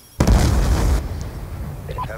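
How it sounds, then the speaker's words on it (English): A grenade detonates in Black Ops 2 as a sudden loud, close blast that rumbles and decays over about a second into lingering low noise. "That's a grenade."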